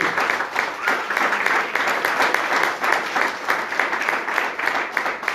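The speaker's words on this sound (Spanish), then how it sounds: "Denle un fuerte aplauso a Cristo" Loud, sustained applause from a church congregation, steady and dense throughout with no break.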